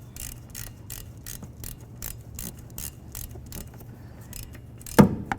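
A ratchet clicks in a fast, steady rhythm while tightening the torque strut engine mount nuts on a 2007-12 Nissan Altima. It is close and crisp, and ends with a sharp metallic clunk.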